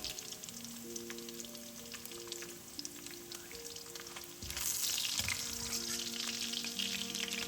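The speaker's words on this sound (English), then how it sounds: "I will recommend frying them until deep golden brown." Continuous sizzling of pork belly frying in hot oil in a wok, close and steady, growing louder and brighter partway through, with occasional stirring clinks.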